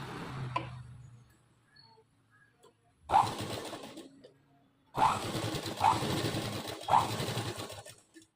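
A sewing machine stitches a long seam on a frock, its motor whirring in several short bursts separated by pauses, close and moderately loud with no talk over it.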